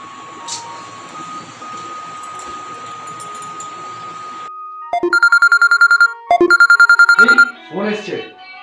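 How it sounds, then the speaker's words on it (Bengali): A mobile phone rings with an incoming call: two bursts of rapid electronic beeping tones at close range after a steady background hum, then a person starts talking. "ফোন এসছে, পাক্কাও ফোন করেছে, দেখি তো।"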